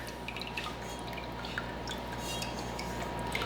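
Beef stock dripping from a lifted basket back into the pot, a quiet, close patter of irregular drops over a faint kitchen hum.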